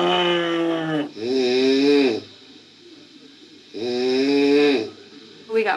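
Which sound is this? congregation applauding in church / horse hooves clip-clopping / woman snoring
woman snoring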